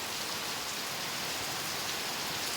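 Steady rain pours down at night beside a canteen, a dense, even hiss of drops on surfaces with no break and no voices.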